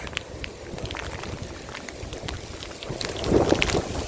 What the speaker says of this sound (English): I'm on the top of a mountain and it just started pouring rain